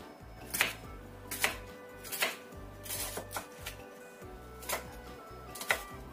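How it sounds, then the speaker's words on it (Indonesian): A knife slices bitter gourd on a cutting board: about eight crisp, close cutting knocks at slightly uneven intervals, with quiet gaps between strokes and no talking. "Kita iris seperti ini aja. Begitu seterusnya sampai semuanya selesai."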